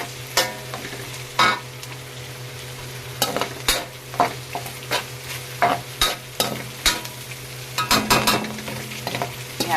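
Ground meat and sliced hotdog are stirred in a hot pan for Filipino-style spaghetti sauce. Loud, rhythmic spatula scrapes and knocks ride over a continuous sizzle and a low steady hum, with no voices.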